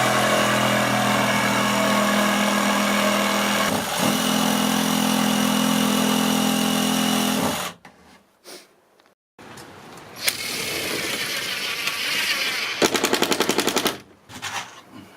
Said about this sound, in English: we're using our chop saw for everything